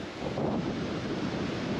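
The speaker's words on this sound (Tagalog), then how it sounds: "Lakas ng alon." Strong ocean waves surge against a seawall near a harbor in Mauban, Quezon, a loud, continuous roar mixed with heavy wind buffeting the microphone, with no talk.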